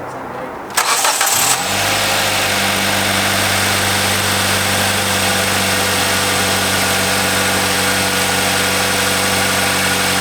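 A Kia Soul with 220,000 miles on it cranks briefly and catches, then settles into a steady, loud idle that hums on evenly without any talking.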